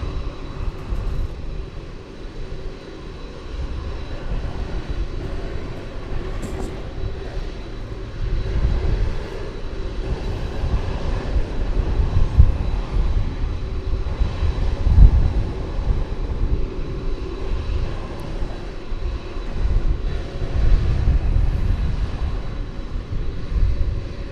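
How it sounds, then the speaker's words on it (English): An MD-11 jet at DFW Airport at night gives off a steady, low engine rumble that swells and holds from start to finish, with broadband roar and no voices. "Donnie White says the MD-11 has a checkered past"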